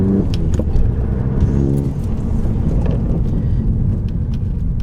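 A steady low rumble and buzzing vibration fill the cabin of a moving Volkswagen GTI Mk7, with faint rattles and jingling over the road noise.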